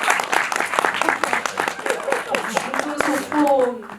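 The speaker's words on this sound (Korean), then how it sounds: "박수 한번 부탁드릴게요" An audience at a film Q&A screening at CGV Apgujeong in Seoul claps in sharp, scattered bursts that thin out, while voices talk over the applause toward the end.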